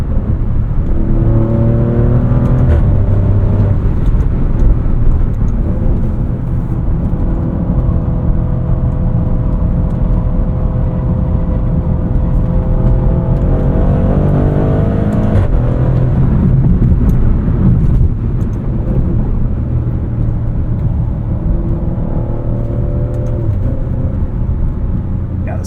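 A 2023 Maserati Grecale Trofeo SUV in sport mode drives along, its engine rising and falling through gears under a loud, steady road rumble, with a voice talking over it.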